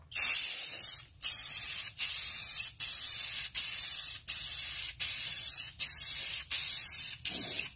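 Aerosol sealer sprayed onto a tumbler decorated with waterslide decals inside a box, in about ten even hissing bursts of roughly half a second each, separated by brief pauses, loud and close.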